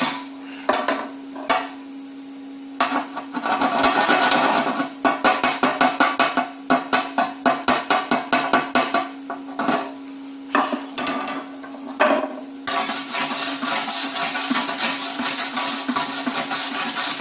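Slag being knocked and brushed off a fresh MIG weld, with rapid bursts of metallic tapping and scraping, then a continuous harsh wire-brushing rasp. A steady hum sits beneath throughout.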